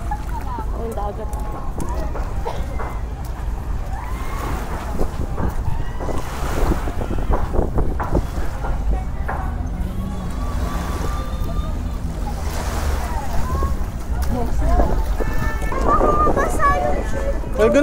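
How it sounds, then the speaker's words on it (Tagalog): Sea waves off El Nido, Palawan, wash and surge around a moving boat amid heavy wind buffeting on the microphone, a continuous loud rush with people talking over it. "Ang dagat."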